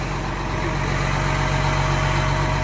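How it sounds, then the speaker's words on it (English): A 400 horsepower diesel engine on an STC tub grinder runs at a steady loud idle, heard from right on top of the machine, a continuous low rumble with no talking. "We're standing on top of a 400 horsepower diesel engine"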